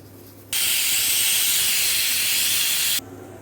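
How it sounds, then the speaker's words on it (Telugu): A pressure cooker cooking mutton pulao on the stove lets off a loud, steady hiss of steam lasting about two and a half seconds, starting and stopping abruptly over a quiet kitchen background, with no talk. "రెండు విజిల్స్ వస్తే సరిపోతుందనమాట"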